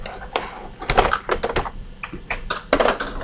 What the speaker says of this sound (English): It's very comfortable when you type.